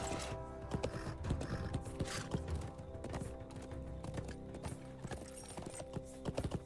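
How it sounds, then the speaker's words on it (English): A war steed's hooves clip-clop in a steady, rapid gallop in the game Lord of the Rings Online, with mechanical clicks, faint neighing and a low hum, all fairly quiet. "Now he's doing his war steed training."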